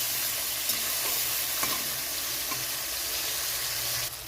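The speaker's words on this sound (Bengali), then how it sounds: "কাঁকড়াটা ভাজা হয়ে গেছে" Crab rubbed with salt and turmeric fries in a pan, a steady close sizzle running throughout with scraping stirs of a spatula now and then, and no voices.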